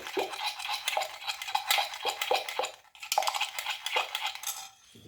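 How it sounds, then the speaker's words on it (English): A whisk or spoon beats a microwave cheese sauce base in a bowl to smooth out lumps, a fast rhythmic scraping and clinking against the sides, close and steady with a brief pause midway. "Keep beating, and those lumps will go."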